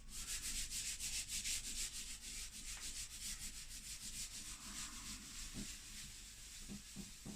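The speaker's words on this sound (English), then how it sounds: "Really want to rub this in nicely so that it creates this nice smooth expanse of saturated sand" Pastel rubbed into paper to blend a smooth expanse of sandy colour, a steady soft scrubbing hiss of repeated back-and-forth strokes, close and fairly quiet, continuous throughout with no talking.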